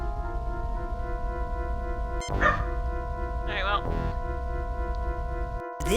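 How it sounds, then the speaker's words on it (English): A dog barks in the Star Trek: Judgement Rites computer game, two short synthesized yips standing out over a steady electronic hum and game music. "I do not know what this dog is barking at."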